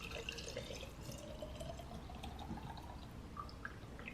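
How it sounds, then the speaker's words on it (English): Water runs from a tap into a jug of soaked hazelnuts, a continuous soft gurgling and splashing with a faintly rising pitch as the jug fills, quiet and close. "I'm going to fill it up with water."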